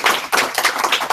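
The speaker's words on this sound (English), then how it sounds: "let's give him a big round of applause for coming out and talking to us about that" Group applause from a small audience after a talk, a brief burst of several hands clapping loudly and close for about a second.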